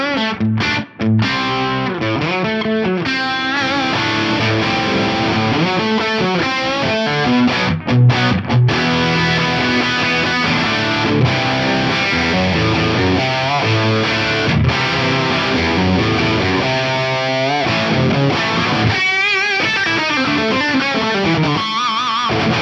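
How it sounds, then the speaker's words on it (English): A heavily driven electric guitar plays through an Axe-Fx III modelling a JVM amp in green mode, pushed by a Timmy overdrive, giving a loud, dense, continuous crunch of chords and riffs with brief gaps between phrases. "One drive that I stumbled across that I think works really well with the green mode is this Timmy model."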